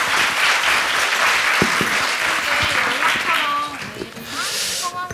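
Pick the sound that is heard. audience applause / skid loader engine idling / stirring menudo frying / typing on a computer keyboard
audience applause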